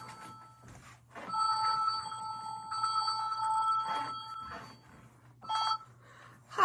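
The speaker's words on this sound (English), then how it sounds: "Would have to be the phone, right?" A telephone rings indoors in a home setting, its electronic bell repeating in several bursts with steady tonal pulses over a low constant hum, fairly close and clear, with no talk over it.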